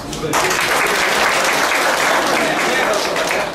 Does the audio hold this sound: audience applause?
yes